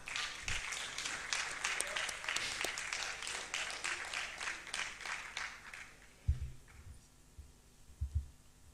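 Audience applause at a national investment quiz competition, welcoming Wesley Girls High School as contestants; broad clapping for about six seconds, then fading to a quiet hall with a few low thumps.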